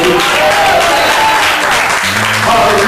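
A church congregation claps and cheers during a sermon, a dense, continuous wash of hand claps with voices mixed in throughout, loud and close for the whole stretch.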